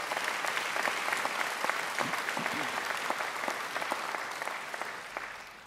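Applause from a graduation ceremony audience, a steady wash of many hands clapping that holds evenly for several seconds and eases slightly toward the end, with a few sharper individual claps standing out.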